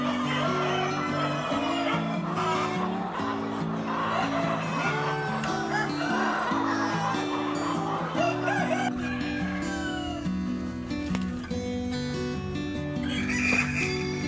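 Roosters on a poultry farm crow repeatedly, several drawn-out calls close by over clucking hens and a soft background murmur.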